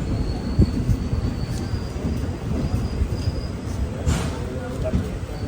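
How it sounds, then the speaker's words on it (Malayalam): Maveli Express rolls into Kasaragod railway station, heard from inside a sleeper-class coach: a continuous low rumble with scattered clanks and a brief metallic squeal, while voices murmur underneath. "കാസർഗോഡ് റെയിൽവേ സ്റ്റേഷനിലേക്ക് ഇതാ ട്രെയിൻ എത്തിക്കൊണ്ടിരിക്കുകയാണ്"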